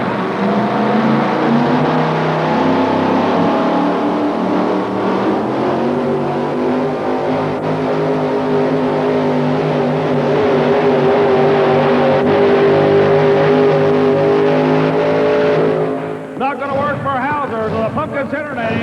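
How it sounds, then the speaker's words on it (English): A Super Rat Chevrolet pulling vehicle at a 1987 tractor pull in Louisville, Kentucky, runs a long, loud, steady engine roar down the track, then abruptly drops off and changes tone near the end, with an announcer talking over it. "getting ready to take a shot with a Super Rat Chevrolet"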